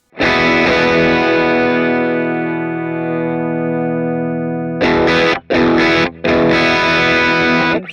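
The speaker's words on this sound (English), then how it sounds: "So you have that little bit fuzzier sound." An electric guitar through an Anasounds Cerberus overdrive pedal with the gain turned up rings out a long sustained chord, then a few choppy strummed bursts, gritty, fuzzy and loud.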